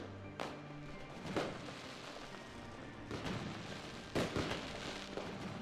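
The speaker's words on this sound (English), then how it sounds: "Seems like a good time for some fireworks" Fireworks in Surviving Mars, heard as several moderately faint booming bursts spaced a second or so apart over a low game background, no voices.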